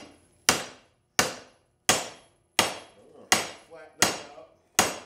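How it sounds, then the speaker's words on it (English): A hammer flattens a steel tube that is TIG welded to spring steel. Seven loud, sharp metallic blows land about every 0.7 seconds, each ringing briefly before the next. "if I were to squash the tube totally flat, that might be a way to, you know, stretch the welds out"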